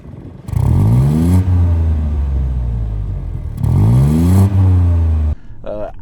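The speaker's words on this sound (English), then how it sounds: "as soon as you press the accelerator, you get that rich petrol sound" A 2024 BMW 218i petrol engine revs twice, rising sharply in pitch each time then falling back to a rumbling idle, loud and close.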